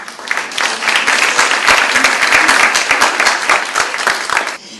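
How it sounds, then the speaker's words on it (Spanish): Loud applause from an audience, a dense patter of many hands clapping that swells, holds steady and then stops abruptly. "los recibimos a todos con un aplauso"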